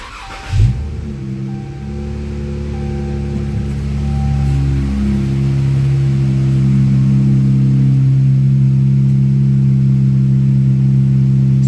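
A 2017 Chrysler 300 engine, just after fuel injector work, cranks and catches, then settles into a loud, steady idle that keeps running close by.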